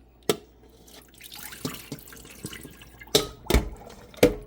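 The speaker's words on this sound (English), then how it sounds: "Drain the water off, and then we're going to repeat the same step." Water draining off pork ribs being washed in a kitchen sink, heard as a few loud splashes and drips with quieter trickling between them, close by and with no talk.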